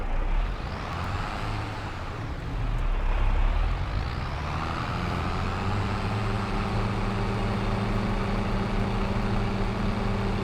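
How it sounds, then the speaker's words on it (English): A farm tractor in Farming Simulator 22 drives on and then settles into a steady, loud engine drone with a brief air-brake hiss and some reversing beeps as it is parked. "let me go ahead and put this tractor away"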